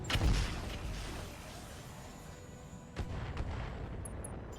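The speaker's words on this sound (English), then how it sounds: "We're going to drop our own artillery on this FSV." Artillery fire in the RogueTech video game: a heavy boom opens, then rumbling background and another muffled impact about three seconds later, moderately loud.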